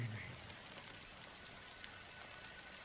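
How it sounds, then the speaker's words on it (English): Steady rain falls in the video game Honkai: Star Rail, a faint, even patter of drops on surfaces with no voices over it. "But it's still raining."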